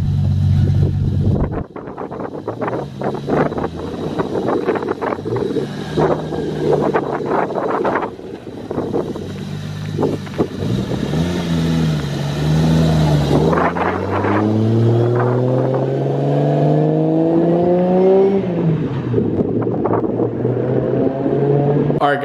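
A Toyota Supra hardtop pulls away nearby, its engine rising and falling through several revving gear pulls, then a long climbing acceleration as it drives off, with steady wind buffeting the microphone.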